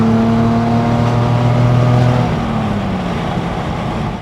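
A 1972 Datsun 240Z pulls hard after a downshift, its exhaust giving a loud, close, steady engine note that rises briefly and then eases off as it settles into the run.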